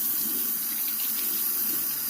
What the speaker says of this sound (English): now we're going to rinse it